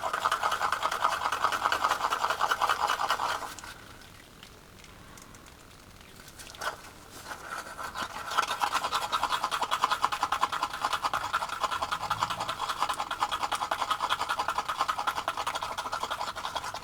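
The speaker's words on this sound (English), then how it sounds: "I'll give this a good stir." Resin being stirred in a cup for a trinket tray, a close steady scratchy scraping with a short pause partway through before the stirring resumes.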